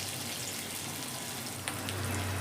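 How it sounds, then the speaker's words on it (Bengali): Urad dal and potato pakoras frying in very hot oil, a steady soft broadband sizzle and crackle running throughout with a low hum beneath, a brief louder pop near the end. "এইভাবে আমি সমস্ত পকোড়া কিন্তু ভেজে দেব"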